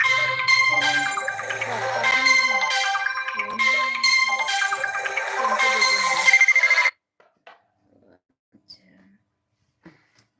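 A bright electronic phone ringtone plays a repeating melodic pattern for several seconds, then cuts off abruptly, leaving near silence with a few faint clicks.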